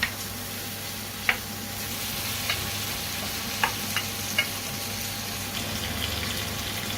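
Pork ribs drop into a pan of hot liquid for chicken-and-rib rice, giving a low, steady bubbling sizzle with a few sharp clinks and stirring taps scattered over the seven seconds.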